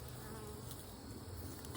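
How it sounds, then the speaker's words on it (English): Honeybees swarm around an open backyard hive during an inspection, a brief close buzzing hum that stays steady and soft. "Looks like there's more bees over there"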